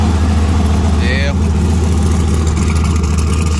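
A truck engine idles steadily, its loud low rumble continuous and close throughout, with a brief faint whistle partway through.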